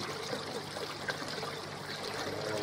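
Water pours steadily through a newly built koi pond filter box with fresh filter media, a continuous close trickling rush with no pauses.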